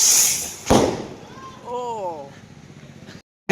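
A Diwali firecracker bursts with one sharp, loud crack near the start, followed by someone speaking over faint background noise.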